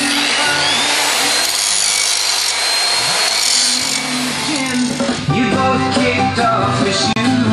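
A power tool grinds continuously through metal, cutting off part of an axle fitting on a rat rod build in a shop, loud and close, with the harsh cutting tone shifting in pitch as it works.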